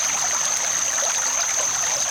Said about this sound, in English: you have the water flow to work that sluice